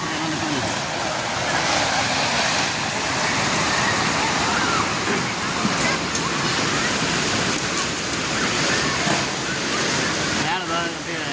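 Hogenakkal waterfall roars in a loud, constant rush of falling water that fills the whole scene, with people's voices faintly mixed in beneath the din.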